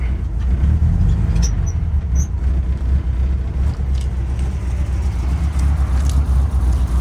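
A 1967 VW double-cab van engine idles steadily with a low, throaty rumble, close and continuous without revving, no voices over it.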